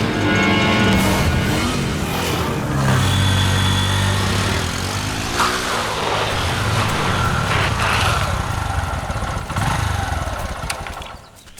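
A motorcycle engine idles steadily and loudly throughout, a low rumbling drone that fades slightly at the very end.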